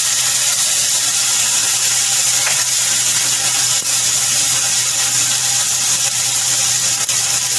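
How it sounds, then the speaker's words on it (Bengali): Whole cumin and chopped tomato sizzle in hot mustard oil in a pan, a steady loud bright frying hiss that holds evenly throughout with no voices. "সর্ষের তেলটা গরমই আছে, তার মধ্যে আমি দেব সামান্য পরিমাণে গোটা জিরে"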